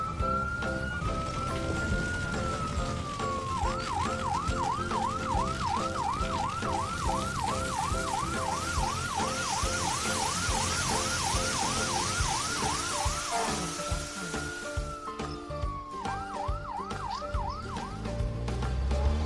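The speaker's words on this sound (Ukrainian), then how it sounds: "Пожежна автівка поспішає." A fire engine siren sounds loud and close, sliding through a slow wail before switching to a rapid yelp, with a brief return to the wail near the end over steady traffic rumble.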